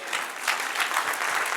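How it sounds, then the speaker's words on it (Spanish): A church congregation breaks into a short burst of clapping during a Spanish-language Bible class, a dense, moderately loud round of applause filling the whole moment. "Dale un aplauso al Señor."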